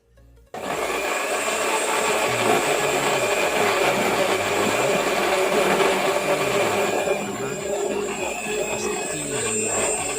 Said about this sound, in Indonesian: kita tutup blendernya dan kita blender